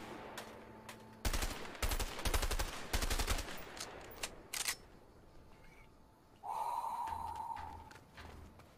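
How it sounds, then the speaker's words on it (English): M14 rifle gunfire in a video game shooting range, heavy single shots in short rapid bursts near and loud, followed after a pause by a whooshing effect and a few more reports. "Try the rifle. M14. Packs quite a punch from all ranges."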